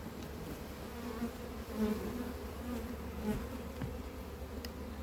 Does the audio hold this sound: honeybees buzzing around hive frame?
yes